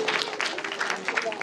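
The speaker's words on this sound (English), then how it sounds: "Let us give a round of applause for Miss Marquise Lauro Henderson." An audience claps steadily for a presenter at an academic conference, a dense, even patter of many hands from the room.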